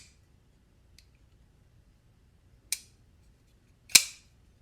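EDC frame-lock folding knife with stonewashed finish and Damascus pivot collar snapping open and dropping shut: a faint tick, then two sharp metallic clicks about a second apart, close and isolated against near silence.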